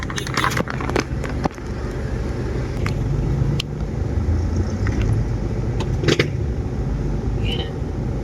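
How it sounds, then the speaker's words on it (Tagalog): Steady road traffic on Quirino Highway near the San Jose del Monte boundary, a continuous low rumble of passing vehicles with occasional sharper knocks and rattles, moderately loud and close throughout. "Matraffic sa Quirino talaga kaya bihira akong dumaan dito."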